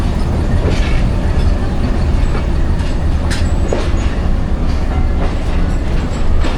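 The Rehman Baba Express passenger train runs along the rails with a loud, steady rumble, faint wheel clatter and occasional squeals throughout, with no speech.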